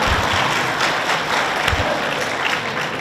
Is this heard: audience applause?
yes